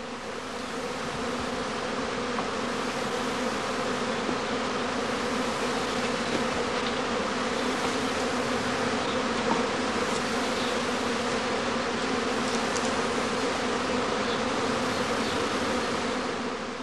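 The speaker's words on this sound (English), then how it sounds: "By spreading a swarm catching bag over the flight entrance, he can prevent the prime swarm from flying away." A honeybee swarm buzzes at the entrance of a straw skep hive, a dense, continuous, layered hum of many wings that holds steady and close for the whole stretch, with no voices over it.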